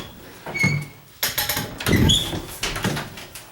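A part squeaks and rubs during a condo rehab, a few short scraping squeals and creaks at close range, uneven and fairly loud.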